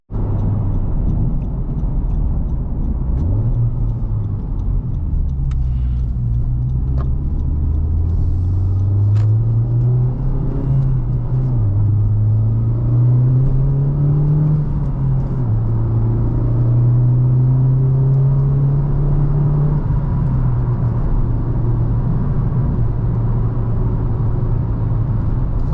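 A 2019 Honda Civic Type R hot hatch drones loudly from inside the cabin on a canyon drive, its engine note rising and settling through gentle revs over constant road rumble, with no talk.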